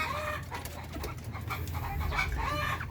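Darag native chickens cluck close by in a farm pen, giving several short, irregular calls that repeat over a steady background hum.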